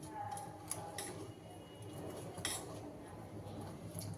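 Pitha batter made with jaggery is mixed in a bowl, producing faint, intermittent clinks and taps of a spoon against the bowl over quiet room noise.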